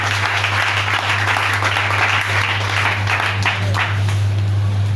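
A church congregation applauds in a sustained, dense wash of clapping that carries on evenly throughout, with a low steady hum underneath.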